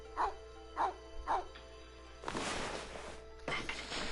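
A dog in the video game Okami barks three times in a steady rhythm, fairly clear and moderately loud, followed by a crash-like burst of game noise.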